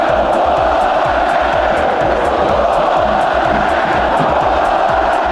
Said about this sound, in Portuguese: E com o passar do tempo, os gritos eram inevitáveis